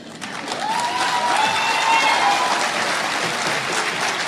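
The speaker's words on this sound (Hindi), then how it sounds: "ये बोलते ही देखिए कैसे वहां पर हॉल में तेज तालियां बजने लगी।" Loud applause from an audience in a hall, a dense burst of clapping that builds within a moment and holds steady, with a few faint voices and cheers mixed in.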